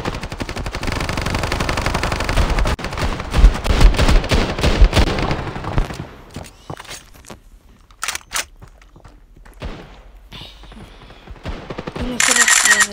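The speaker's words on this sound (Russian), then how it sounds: "Стреляет" Rapid gunfire in the video game Standoff 2 rattles loudly for several seconds, then gives way to scattered isolated shots and footsteps, with a voice talking over parts of it.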